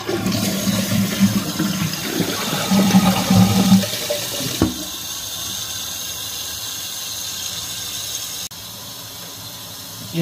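A toilet flushes after a new fill valve has been fitted: a loud rushing, gurgling swirl of water that drains away after about four seconds, followed by a steadier hiss of the tank refilling.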